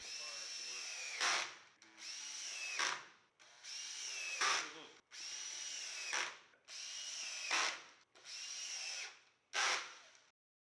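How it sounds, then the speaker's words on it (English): A power drill whirs in six short bursts, each ending in a sharp high whine as a screw drives into a height-adjustable desk's work surface, with brief pauses between. "drill the screws into the"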